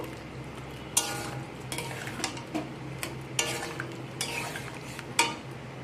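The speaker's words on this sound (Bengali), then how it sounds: "ধনেপাতাটা দিয়ে সব কিছুকে আবার একসাথে একটু মিশিয়ে নেব" A spoon stirs jackfruit curry with chopped coriander in a pan, scraping and knocking in irregular strokes with several sharp clinks over a soft sizzle, close and clear with no voices.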